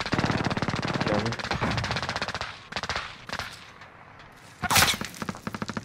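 Rapid bursts of automatic gunfire and sharp shots in Call of Duty Modern Warfare crackle loudly in quick rhythmic strings, pause briefly, then return with a bright crack and more fast shots.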